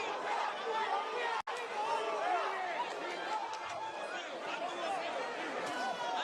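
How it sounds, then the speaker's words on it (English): Arena crowd at the Pacquiao vs Ugas boxing match in Las Vegas, a steady dense hubbub of chatter and cheering that stays fairly constant, broken by one brief dropout. "A very one-sided crowd, all in favor of Manny Pacquiao for the most part."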